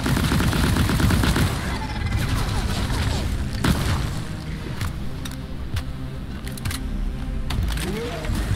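Automatic turrets in Deep Rock Galactic fire rapid bursts at swarmers, loud crackling volleys that ease into scattered pops and bangs with game effects around them.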